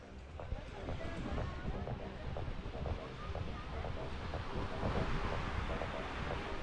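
Choppy sea waves wash at Playa Mamitas beach in a constant broad rushing roar mixed with wind buffeting the microphone, while people talk over it nearby.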